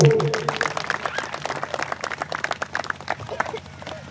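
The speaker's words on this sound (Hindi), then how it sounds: "जोरदार ताली बजाएंगे।" Loud audience applause at a Gondwana cultural gathering, dense claps with a crowd murmur, continuing steadily over a few seconds after a brief voice at the start.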